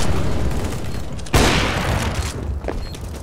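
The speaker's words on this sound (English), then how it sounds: "Throwing flashbang. Ah, that's flashbang!" Flashbang grenade going off in a multiplayer shooter game, one sharp loud bang that bursts up from low rumbling gunfire and fades into a noisy wash.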